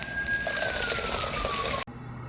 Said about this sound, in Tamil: இப்போ தண்ணி விட்டுக்கிடுவோம்